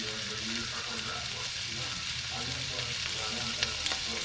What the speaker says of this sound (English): So now I'll go ahead and add the heavy whipping cream.